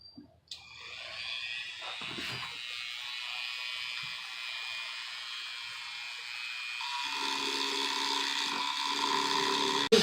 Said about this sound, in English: So I'm going to get started here with my Dremel tool.